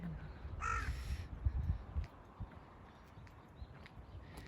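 A single crow caws loudly nearby, followed by quieter footsteps and faint outdoor rustling.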